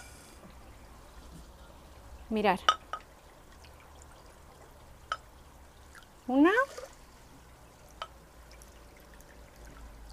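Water is poured into a saucepan over oat flakes in a home kitchen, two short gurgling pours a few seconds apart, close and moderately loud, with faint talk in the background.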